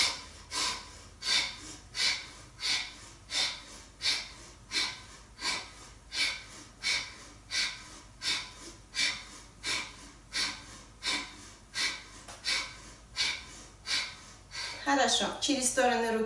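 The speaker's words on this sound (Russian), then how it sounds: "Бхастрика – это полное глубокое дыхание, вентиляция легких, кузнечные меха в переводе с санскрита" Bhastrika bellows breathing, a forceful yoga breathing exercise, pumps out about two dozen rapid, rhythmic, evenly spaced breaths close to the listener, followed by a brief spoken voice at the end.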